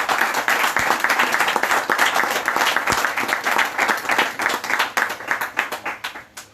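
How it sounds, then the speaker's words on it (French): A roomful of people claps steadily at a New Year's wishes gathering for the URD party president, dense continuous applause that thins toward the end. "j'aimerais qu'on vous applaudisse, mon frère"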